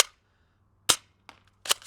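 Airsoft gun firing BBs, three sharp separate snapping shots spaced irregularly over a couple of seconds against a faint low hum, with no talking.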